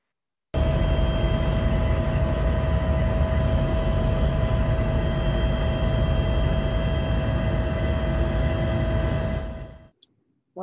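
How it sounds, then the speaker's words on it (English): Helicopter noise from an aerial flight over Antarctica, a loud, constant rotor and engine roar with a steady tonal whine that runs unbroken, then cuts off abruptly near the end. "first you'll hear some helicopter noise"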